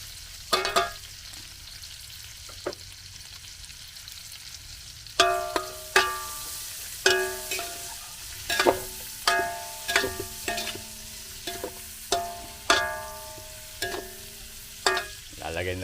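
Onion and garlic sauté in a pan under a steady sizzle. A utensil strikes the pan in regular, sharp clinks as it stirs, loud and close, with no voices.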